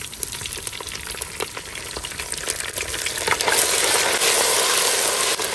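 Onions, green chillies and ginger garlic paste fry in a pan for a chicken biryani, crackling close and steady with occasional stirring taps, then surging into a louder, fuller sizzle for the last couple of seconds.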